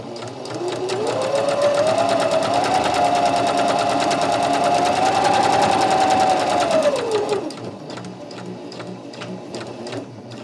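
A sewing machine stitches fabric half a centimetre from the edge. The motor whirs up, holds a steady, rapid stitching run for about six seconds, then slows and stops, and quiet clicking follows.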